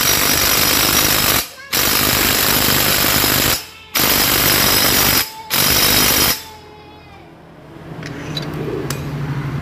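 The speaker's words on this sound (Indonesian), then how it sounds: "langkah selanjutnya kita kencengke menggunakan impact saja" Impact wrench tightening a motorcycle clutch nut, three loud, rapid hammering bursts of a few seconds each with short pauses between, then quieter workshop noise.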